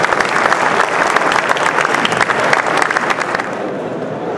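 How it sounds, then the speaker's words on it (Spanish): Audience applause at an opening forum rings out loud and steady, dense clapping from a crowd that holds its level before easing slightly near the end. "Así que deseen un aplauso por eso."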